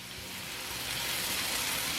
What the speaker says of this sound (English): you hear that baby sizzling?